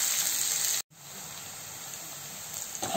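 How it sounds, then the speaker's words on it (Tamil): Chopped small onions and large onions sauté in hot oil in a pan for a pepper chicken dish, giving a close, steady sizzling hiss that drops out for a moment before resuming. "இப்போ இதில் அந்த கட் பண்ணி வச்ச இந்த வெங்காயம் அண்ட் பெரிய வெங்காயம் ரெண்டையும் போட்டுக்கோங்க. போட்டு வதக்குங்க."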